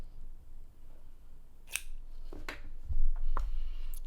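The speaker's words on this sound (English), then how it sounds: "Can finish it off, cut your yarn." Scissors snip through yarn at the end of a scarf made on a Sentro knitting machine, with a couple of sharp close cuts over quiet background and no talk.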